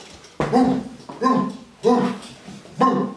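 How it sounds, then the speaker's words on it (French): A dog barks four times in slow, evenly spaced bursts, each loud, close and clear, with quiet between them. "Enfin, le chien aboya."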